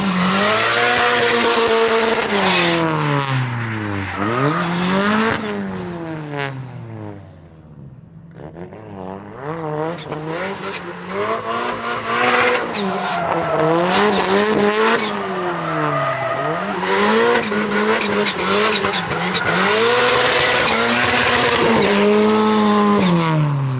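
Cars drift at a track during a girls' drift day, with engines revving up and down repeatedly and tires squealing loudly and continuously in long sweeping runs.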